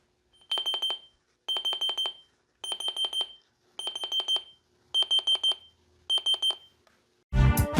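A ClooBlut RD218 pocket radio sounds its alarm: six evenly spaced bursts of rapid high-pitched beeping, each about half a second, clear and close, followed by a short snatch of radio sound at the end.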